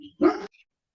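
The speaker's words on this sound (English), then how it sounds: "my dogs are greeting someone" A dog gives a single short, sharp bark while greeting someone, a brief burst that ends abruptly and leaves near silence after it.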